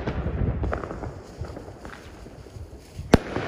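New Year fireworks go off outdoors as scattered crackling pops and distant booms, ending in one sharp, loud bang near the close.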